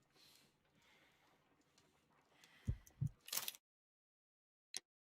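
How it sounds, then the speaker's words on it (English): Two deep thumps of a heartbeat in the Sherlock Holmes: Crimes and Punishments game, close and distinct, followed by a sharp burst and a single faint click after silence, over a low murmuring background. "I need to concentrate and count the heartbeats."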